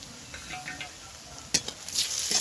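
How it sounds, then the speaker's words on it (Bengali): Tomato frying in mustard oil in a pan, a soft steady sizzle with a few scraping stirs and utensil clinks, louder bursts near the end. "টমেটোটা খুব সুন্দর করে একটু ভেজে নেব"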